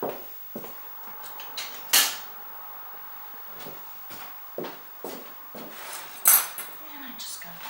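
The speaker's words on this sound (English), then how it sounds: "then I'm just going to grab a knife here" Cutlery and dishes clink in a kitchen as a knife is picked up, with several sharp metallic clatters and knocks scattered over quiet room noise while a lemon is prepared for curing gravlax.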